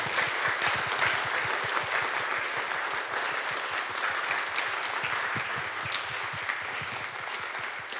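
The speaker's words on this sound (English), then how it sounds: "let's give Professor Subramaniam a round of applause" Applause from an audience at the close of a university museum lecture on plants: a dense, continuous patter of many hands clapping, steady and fairly even in loudness throughout, with no talking.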